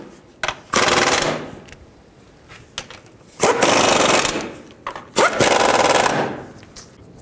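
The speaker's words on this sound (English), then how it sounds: "tighten these rear bolts down." An impact or air tool on a Ford Fusion alternator's rear bracket bolts buzzes in three loud bursts separated by short pauses.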